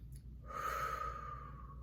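A single soft breath drawn in and released by a person during a calm guided tapping exercise, a gentle airy sigh-like exhale lasting over a second, close and quiet with no talk.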